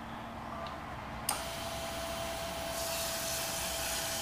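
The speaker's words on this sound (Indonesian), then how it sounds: "Sekarang kita uji flow-nya yang untuk yang 4S1M dulu ya. Saya nyalakan." A fuel injector flow test machine runs with a Honda 4S1M 12-hole injector fitted, giving a steady broadband hiss and spray with a sharp click near the start and the spray growing louder partway through.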